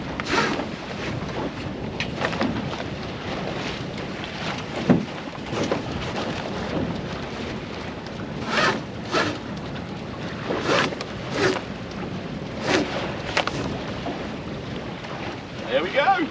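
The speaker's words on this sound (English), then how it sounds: "The wind." Wind rushing steadily over the microphone aboard an RS Venture sailing dinghy out on open water, with gusty swells and faint splashes of water throughout, continuous and fairly loud.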